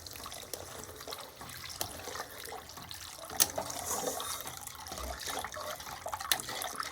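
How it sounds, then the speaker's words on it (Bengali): Water pours into a pan of ground cashew and poppy seed paste to make a curry gravy, a steady splashing and trickling stream, close and fairly quiet, with a brief clink partway through. "এবার আমি এর মধ্যে আমার যতটা পরিমাণ ঝোলের প্রয়োজন ততটা পরিমাণ জল দিয়ে দেব"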